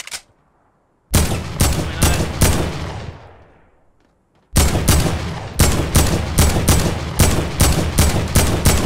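Rapid bursts of video game gunfire in a Fortnite-style duos match, a short shot then two long stretches of repeated loud cracks in quick clusters with a brief lull between.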